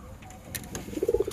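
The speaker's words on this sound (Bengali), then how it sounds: "আর এখানে টোটাল পায়রা আমার আছে।" Pigeons kept in a home loft give a soft, close coo that swells into a short run of throaty pulses near the end of the brief moment.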